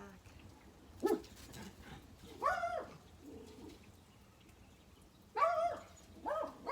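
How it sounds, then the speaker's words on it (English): Several short dog barks and yips at intervals, moderately near, with quiet pauses between them. "Sorry about the barking."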